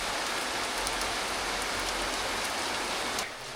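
Steady rain falls outside, a dense, even hiss of drops hitting surfaces that fills the whole stretch at close range, with no voices.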